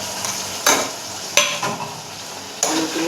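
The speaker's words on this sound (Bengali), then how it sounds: "এবারে আমি আলুগুলোকে দিয়ে দিচ্ছি।" Potatoes tipped into a pan of hot oil for a Bengali fish curry, with three sharp sizzling bursts as pieces hit the fat over a steady, close frying hiss.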